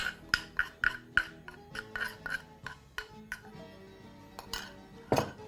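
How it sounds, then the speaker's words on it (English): A spoon scrapes small bits of crushed garlic out of a mortar, making a run of close, rhythmic clinks and scraping rubs, with a sharper knock near the end. "You can also alternatively use a spoon just to get those small bits of garlic out of your"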